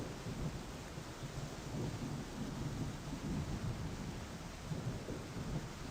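Continuous rain and low rumbling thunder from a storm in the Tornado Research & Rescue video game, a steady dense wash that carries on alone throughout.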